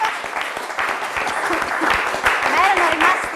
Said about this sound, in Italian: un applauso bravi